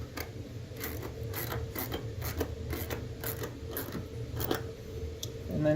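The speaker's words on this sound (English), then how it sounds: "you can take your 10mm ratchet and start snugging those up" A 10mm ratchet tightens mud flap bolts on a Nissan Navara, giving quick, close clicking strokes in an uneven rhythm over low background hum.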